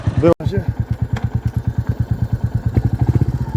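A Royal Enfield Goan Classic 350 single-cylinder motorcycle thumps close by in a steady, loud, even pulse, the beats quickening slightly toward the end after a brief cut near the start.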